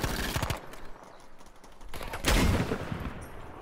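Bursts of gunfire in the World War II shooter Battlefield 5, a loud volley at the start and another heavy burst midway, with quieter shots and game ambience between.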